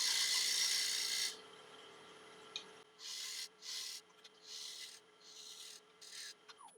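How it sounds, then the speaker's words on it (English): A 1-inch shear scraper works a rotten log on a wood lathe, with a loud rasping cut at the start, then several short scraping bursts separated by pauses, close and without talk. "I'm just going to switch to a little 1-inch shear scraper."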